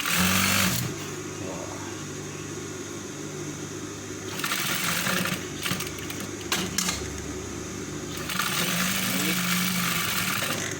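A sewing machine stitches a V-neck collar in bursts, its rapid whirring hum starting and stopping several times, loud and close, while someone talks in the background.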